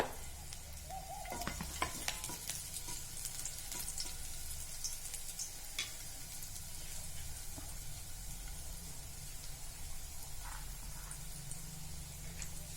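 Finely crushed garlic and ginger sizzling in a pan, a continuous moderate frying hiss with occasional light clinks and stirring scrapes, no talking.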